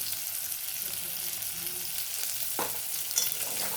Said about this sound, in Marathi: आणि सर्व व्यवस्थित परतून घ्यायचं